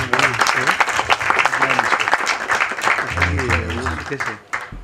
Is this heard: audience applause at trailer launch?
yes